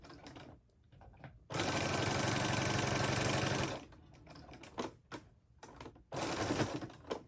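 A sewing machine stitches fabric for a jar opener in two bursts, one long steady whir and a shorter one near the end, with clicks and handling noises between as the work is turned at a corner.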